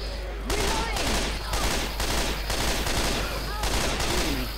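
Rapid automatic gunfire in the zombie shooter Left 4 Dead 2, loud sustained bursts separated by short pauses, with voices faintly underneath.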